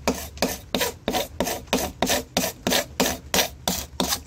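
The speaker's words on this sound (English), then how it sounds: "So I'm going to scrape this all off and then I'm going to turn around and sand again." A hand scraper drags across wood during a bar build, about a dozen steady rhythmic rasping strokes, close and clear with no talking.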